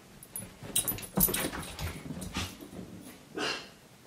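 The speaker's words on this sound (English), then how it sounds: "My dog doesn't always have a barking fit, but when she does, it's at nothing." A 13-year-old Bichon dog gives a run of sharp, close barks and yips in uneven bursts, with whimpering and panting between them, indoors and without talk.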